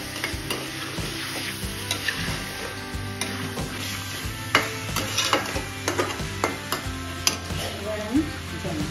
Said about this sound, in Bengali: এভাবে কষালে রংটাও ভালো হবে।